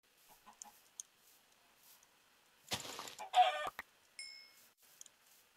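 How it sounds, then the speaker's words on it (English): Chickens cluck in a Minecraft UHC survival game, a short burst of fowl calls in the middle with a few quieter clicks and chirps around it, heard alone with no talk. "I found chickens."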